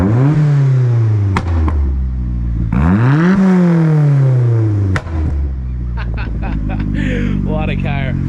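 Small Toyota AE86 car engine running close up in a shed, with two rising and falling rev sweeps and a steady idle between, loud throughout, with brief clatter near the end.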